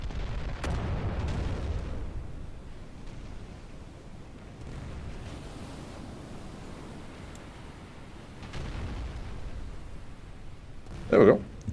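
Battleship turret guns fire in a naval strategy game, heavy muffled booms and rumbling blasts rolling under a steady wash of sea-like noise, with a person talking throughout and a sharper burst near the end.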